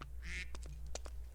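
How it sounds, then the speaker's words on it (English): A duck in the Minecraft video game quacks in a quick run of short, nasal calls, fairly faint and sitting over a low background hum with no talk. "Hello, duck."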